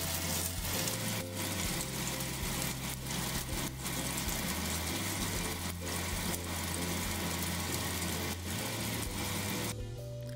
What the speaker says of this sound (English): Fry them until beautifully golden brown on all sides.